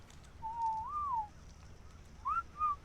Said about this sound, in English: That whistle I do know to stop following.